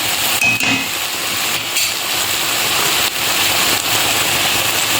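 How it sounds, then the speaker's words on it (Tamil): Water pours steadily into a cooking pan of Bombay chutney with a continuous splashing rush, close and fairly loud, with no talking. "இன்னும் கொஞ்சம் தண்ணி ஊற்றிக்கோங்க."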